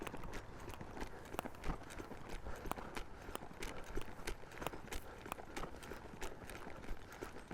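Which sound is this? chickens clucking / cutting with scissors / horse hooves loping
horse hooves loping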